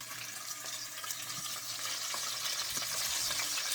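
Steady hiss and crackle of fish frying in hot oil in a pan, close and constant, with occasional faint clinks.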